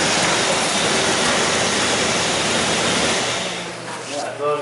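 A Jeep Liberty engine idles steadily on its cam signal alone, with no crank signal, giving a loud, dense, constant running roar that eases off near the end.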